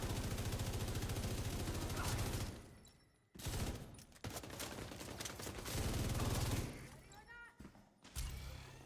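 MG5 machine gun fire in the video game The Division 2, heavy sustained bursts broken by short pauses and quieter gaps, moderately close, with other game sounds mixed in.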